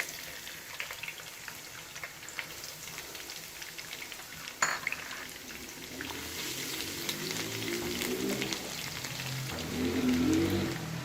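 Garlic frying in hot oil for chicken biryani, a steady soft sizzle with occasional stirring scrapes, growing louder near the end.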